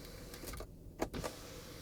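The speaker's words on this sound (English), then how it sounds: "I'm opening the roller sun blind on the sliding sunroof." Roller sun blind sliding open on the sunroof of a Mercedes-Benz GLS: a soft, steady electric motor hum inside the cabin, quiet and continuous, with a faint click partway through.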